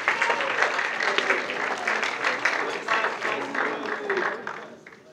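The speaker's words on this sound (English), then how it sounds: "So give yourselves a big round of applause." Students applauding themselves in a room, loud steady clapping for several seconds that tapers off at the end, with some voices mixed in.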